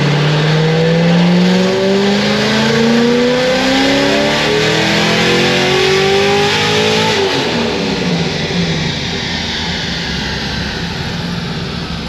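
A Novi 1500 supercharged C6Z Corvette engine is run up on a dyno, revving hard with a rising whine and supercharger scream that climbs steadily, peaks, then drops off as the throttle closes, loud and without talk.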